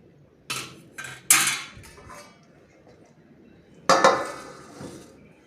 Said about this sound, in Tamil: கட்டி இல்லாமல் நன்கு கிளறி விடவும்.